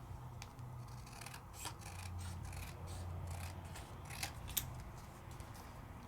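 Paper for a handmade card is cut with scissors in a run of small, quiet snips and rasps over a low, steady hum, close by and with no talk.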